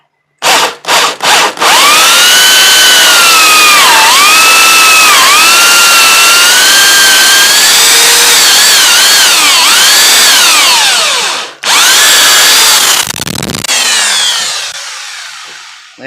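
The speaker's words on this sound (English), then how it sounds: "Get my drill set right here." A loud, close power drill whines as it bores 1.5 inches into a wooden post, its pitch dipping under load, with a brief pause before a final burst.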